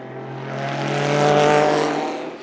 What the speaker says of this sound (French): Un petit air de BPR souffle sur le circuit de Barcelone avec des V8, V10 et V12 aux sonorités incroyables